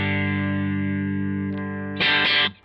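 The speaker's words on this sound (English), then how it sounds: "reverb is a tank reverb" A Bootlegger electric guitar with its tank reverb set at 3, one sustained chord with a long reverb tail, then a sharp strummed burst that is cut off abruptly.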